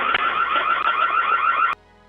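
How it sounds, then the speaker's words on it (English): A loud home security alarm sounds at a front door, a harsh warbling electronic wail that blares steadily for almost two seconds and then cuts off abruptly, leaving near silence. "a loud alarm echoed into the air, sending him into a state of panic"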